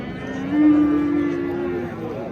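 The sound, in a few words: cattle mooing at livestock market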